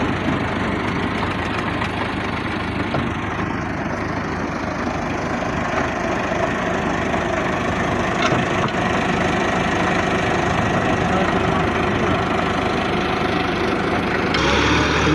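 A 375 tractor engine runs steadily at close range, pulling a 60-blade rotavator made by Rehman Agro in Okara, with a continuous low rumbling drone that holds throughout, no voices over it.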